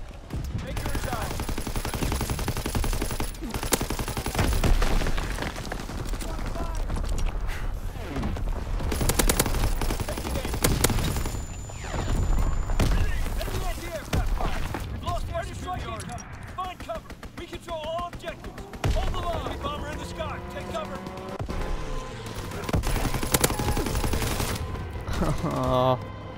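Artillery in a World War II shooter game thunders through a long stretch of heavy, repeated blasts mixed with bursts of gunfire, loud and layered, with voices talking intermittently over the barrage.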